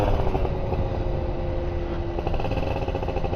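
A motorcycle with a brand new motor rides steadily at low speed, its engine droning continuously and fairly loud with a sustained mid-pitched tone, no voices over it.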